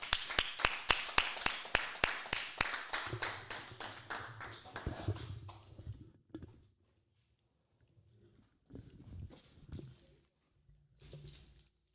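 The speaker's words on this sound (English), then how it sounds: "Clap it up, man." An audience claps in steady, brisk rhythm after a class, loud and close at first, then fading and stopping, followed by scattered quieter bursts of clapping and noise.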